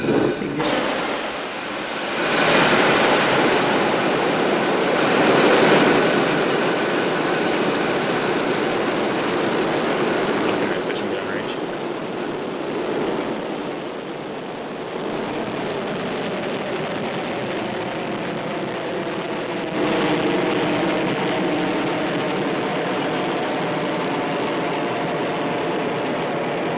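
Falcon 9 rocket engines igniting and lifting off on a Starlink launch, a loud, sustained broadband roar that swells and rumbles continuously for nearly half a minute with no talk over it.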